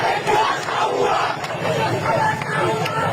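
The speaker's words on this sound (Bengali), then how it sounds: "বাংলাদেশের রাস্তায় স্লোগান ওঠে, টিনের চালে কাউয়া, তারেক রহমান" A street crowd chants a political slogan in Bangladesh, many voices shouting together in a rough rhythmic cadence with a steady, dense roar of background noise.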